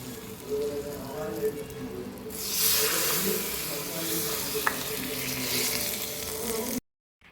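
Hot tempering poured into a simmering fish curry sets off a loud, broad sizzle that swells suddenly and holds steady for several seconds before cutting off, with low background noise beneath.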